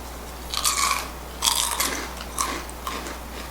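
Fritos corn chips crunch loudly and close up in several bites, each a dry crackling burst followed by chewing, with short gaps between and no talking.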